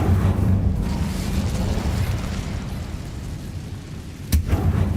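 An Incendio fire spell cast in Hogwarts Legacy lets out a loud, sustained fiery roar, capped by a sharp burst near the end.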